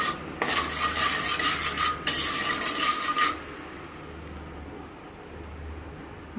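A utensil stirs a mixture in a pot for popcorn, brisk scraping strokes for about three seconds with a brief pause, then quiet low hiss and faint clinks.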